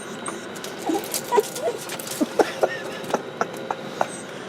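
An excited dog lets out a string of short yips and whimpers that come faster and sharper toward the end, close by inside a truck over a steady background hum.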